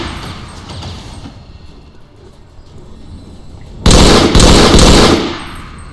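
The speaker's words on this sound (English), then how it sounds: "Man, dude, those guns are so loud." Automatic gunfire in XCOM 2 erupts loudly after quieter background action, a dense burst of rapid shots lasting more than a second before cutting off.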